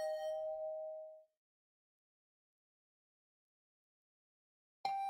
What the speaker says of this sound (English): The usual morning announcement was drowned out by the sound of my doorbell ringing over and over.